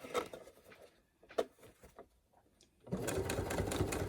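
Sewing machine stitching the seam of a fabric face mask, a few short bursts of stitching and handling, then a steady fast run of the machine up close.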